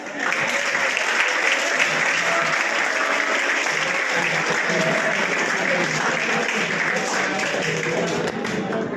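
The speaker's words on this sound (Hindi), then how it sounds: "बर्थडे बॉय के लिए ताली बजाओ।" Steady, dense audience clapping at an anchored coaching-class event in Hanumangarh Junction, welcoming a birthday boy; continuous and fairly loud with no break, a few voices faintly mixed in.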